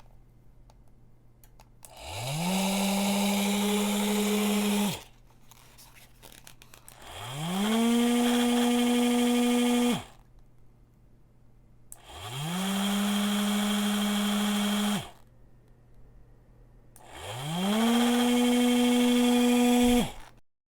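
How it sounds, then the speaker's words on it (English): Small DC motor driven through two relays by an Arduino, whirring up in four separate runs of about three seconds each with silent gaps, each start rising in pitch and steadying, close and moderately loud. "the motor is rotating perfectly in CCW and CW."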